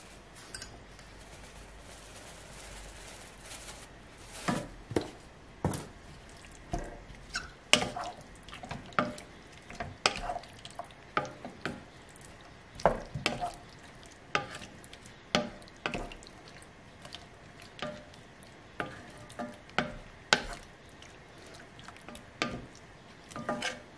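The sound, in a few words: mixing food with herbes de Provence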